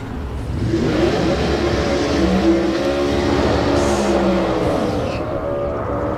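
Competition Eliminator drag cars roar at a Rooftec semifinal round, a loud, sustained engine drone with shifting revs that swells, holds and begins to fade as the cars move off.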